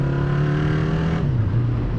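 A stock 1976 Honda CB550 Four motorcycle's four-cylinder engine holds a loud, steady rev and then drops in pitch as it settles, heard up close with no talk.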